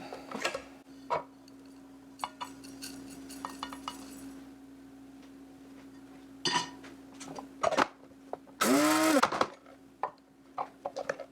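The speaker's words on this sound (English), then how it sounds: "Let's go ahead and grind it up." Toasted fennel seeds are ground to a fine powder in a kitchen spice grinder, a loud buzzing whir that builds near the end, preceded by scattered clinks and taps of utensils and cookware.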